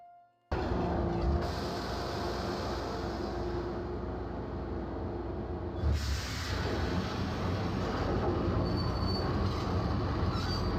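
Train ride in the 2001 video game Max Payne, a continuous heavy rumble of a subway car rolling through tunnels with steady rattling, a brief loud surge partway through and high wheel squeals, no voices.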